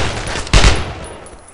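Brothers In Arms World War II gunfire, a single close, loud burst of shots in the middle of a brief stretch of battle noise.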